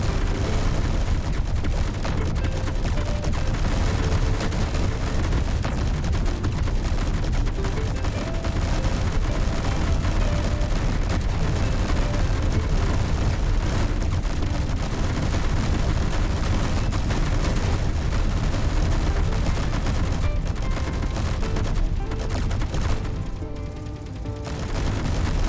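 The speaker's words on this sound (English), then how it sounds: "They're still firing." Enemy turrets in the Space Engineers video game keep up dense, continuous gunfire and booming impacts, loud and relentless for about twenty-five seconds with no voices.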